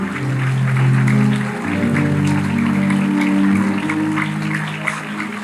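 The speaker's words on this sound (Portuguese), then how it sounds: "Pode aplaudir, irmão." Church congregation applauding during a sermon, a steady wash of clapping sustained for several seconds with an organ or keyboard chord sounding underneath.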